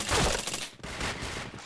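Gunfire in the shooting game Point Blank: a dense burst of rapid shots at the start, a brief gap, then more sustained firing, close and loud, with no voices.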